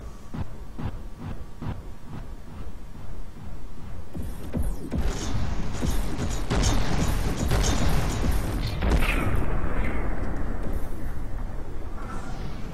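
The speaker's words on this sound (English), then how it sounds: "There go the torpedoes." Torpedoes launching in From the Depths: a rhythmic mechanical thumping at first, then a heavy rumbling roar with crashing bursts that stays loud and sustained to the end.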